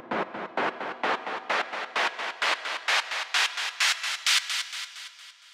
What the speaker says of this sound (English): You hear it getting higher in frequency